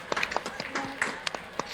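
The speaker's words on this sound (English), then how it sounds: "Round of applause, please," Attendees of a virtual university graduation clap over unmuted microphones, a brief, sparse patter of scattered claps from a few people, thin and fairly quiet.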